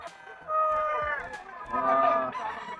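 A gamecock stag at a pet market crows and clucks close by in two loud harmonic bursts, with a brief faint cackle after, other birds and market murmur low behind.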